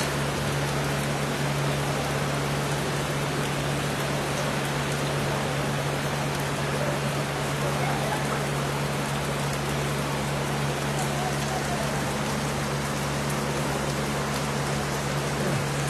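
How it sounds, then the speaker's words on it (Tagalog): Heavy rain pours down in a dense, steady roar throughout at the gate of the Department of Justice, with a constant low electrical hum beneath it. "bumuhos po yung napakalakas na ulan"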